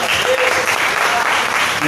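A church congregation applauds during a service, a loud, continuous burst of clapping with voices mixed in throughout.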